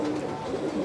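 Pigeon cooing close by, a short soft low-pitched coo that lasts under a second, with no voices.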